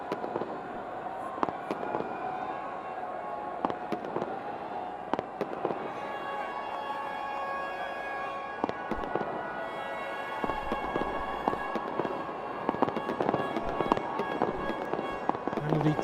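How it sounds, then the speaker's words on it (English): Fireworks crackle and pop in scattered sharp bangs over a loud, steady stadium crowd roar at a Legends League cricket match, with the bursts growing denser toward the end. "Bit early for those fireworks."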